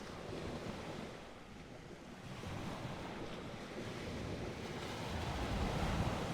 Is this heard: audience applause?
no